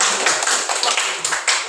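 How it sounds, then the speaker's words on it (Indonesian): A classroom group claps briefly, a short burst of scattered hand claps close by, uneven and somewhat sparse over under two seconds. "beri tepuk tangan untuk"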